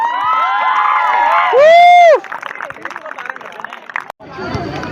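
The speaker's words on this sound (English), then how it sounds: "Give them a big round of applause" A school prize-distribution crowd cheers the girls' cricket runners-up with excited shouts, whoops and one long high-pitched squeal, loud and boisterous, breaking into busy chatter and hubbub that dips briefly before the cheering picks up again.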